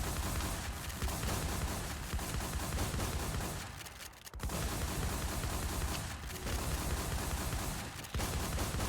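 Rapid shotgun gunfire in a video game crackles almost nonstop, dense and loud, with only brief lulls between bursts.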